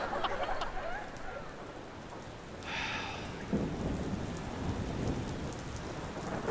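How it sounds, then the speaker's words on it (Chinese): Heavy rain pours down steadily in a staged comedy sketch scene, a dense wash of falling water that fills the whole clip, with a low rumble of thunder rolling in about midway; no one speaks. "这雨越下越大"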